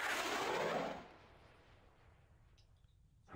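A weapon in the video game Arma 2 fires a burst of 10 rounds, heard as a loud, dense roar of rapid shots for about a second that drops into a long fading echo and rumble.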